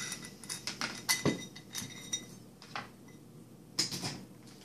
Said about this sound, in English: Take the little pan apart.